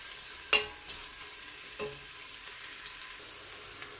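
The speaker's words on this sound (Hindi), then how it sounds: "और इसको भी हम कर लेंगे लाइट ब्राउन, हल्का सा हम इसको फ्राई करेंगे" Onions frying lightly in a pressure cooker during a bitter gourd and chana dal recipe, a faint steady sizzle with a couple of soft stirring knocks near the start and middle, no talking.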